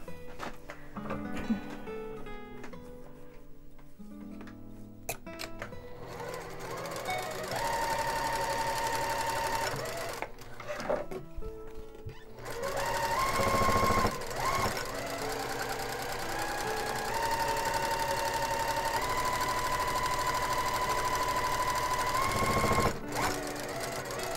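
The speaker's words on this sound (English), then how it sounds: "So I'm sewing on this side right here." A sewing machine stitches a patchwork pillow in long runs of rapid, steady mechanical whirring and clatter, pausing briefly between passes, fairly close and with no talking.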